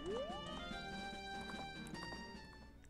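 Horse hooves clip-clop in The Legend of Zelda: Majora's Mask, a faint, steady rhythmic patter of steps under a bright sustained game music tone.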